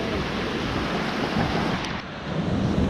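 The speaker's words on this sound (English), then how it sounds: "Look at that ocean" Steady broadband rush of ocean surf at Old Orchard Beach, Maine, a constant roar of breaking waves heard close and loud with wind noise, no talking.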